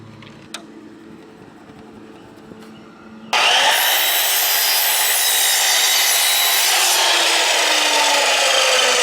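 A saw bites into a solid wood piece being cut to length, starting abruptly after a few quiet taps and then roaring as a loud, continuous, close cut.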